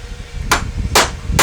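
Hammer strikes driving a small, narrow nail into wood for a beginner's DIY money storage box: three sharp, loud blows spaced roughly half a second apart, close by, with no talking.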